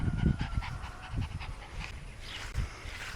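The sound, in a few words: dog panting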